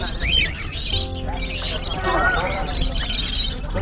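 Cockatiels and other caged birds squawk and chirp in sharp, scattered bursts at Broadway pet market in Chennai, amid crowd noise and people talking nearby.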